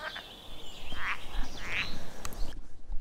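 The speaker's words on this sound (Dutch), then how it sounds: "ik hoor bevestigend gekwaak." Frogs croak at a heath pond in Brabant, a few raspy calls rising over steady outdoor background hiss, moderately distant with no voices.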